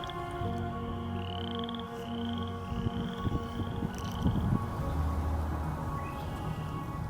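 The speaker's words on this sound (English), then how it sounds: "Also, hear those frogs in the background?" Frogs croak and trill in the distance in spring in Michigan, a layered chorus of steady calls and chirps continuing throughout, fairly faint.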